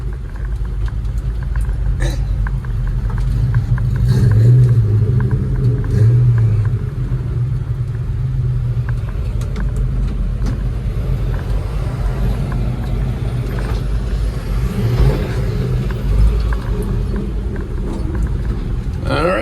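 A 1950 Dodge truck, parked for over 40 years, runs with a deep, steady engine rumble close by, its low idle holding throughout with slight swells as it pulls away.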